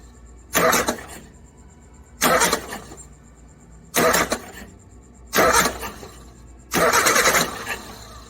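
Suzuki Samurai under restoration, engine cranked by the starter with the ignition off so it never fires: five separate whirring cranking bursts, each about a second long, with short quiet gaps between them, close and fairly loud.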